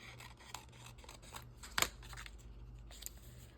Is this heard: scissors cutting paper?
yes